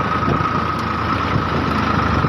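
A tractor engine runs steadily at idle up close, a constant low rumble with a droning hum and no other sounds.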